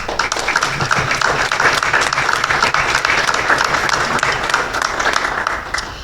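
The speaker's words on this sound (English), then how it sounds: "Let's give all of these individuals a big hand." Applause from an audience at a candidate forum, sustained and fairly loud, rolls on steadily from start to finish as many hands clap together.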